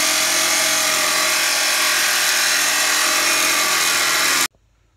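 Cutoff wheel slicing through aluminum workbench leg stock, a loud continuous grinding whine held steady for over four seconds before stopping abruptly, leaving near silence.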